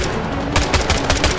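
Loud automatic gunfire in the Vietnam-era shooter game Hell Let Loose: Vietnam, a rapid burst of shots close up over a short stretch.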